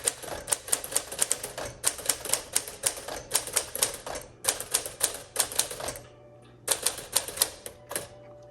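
Rapid keystrokes clatter on a 1957-59 Sears Tower Commander manual typewriter made by Smith Corona, in bursts of fast typing separated by brief pauses, close and crisp.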